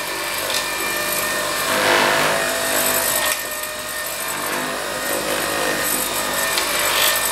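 Polish is rubbed by hand into a guitar body, giving a steady, close swishing friction that surges in slow strokes with no voices.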